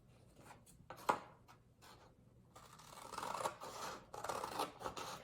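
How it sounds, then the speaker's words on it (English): Scissors cut through stacked orange and red construction paper into strips, giving a series of close, crisp snips and rasping slices in uneven bursts, with no talking. "So you can take your construction paper, I'm using orange and red, line them up and cut strips."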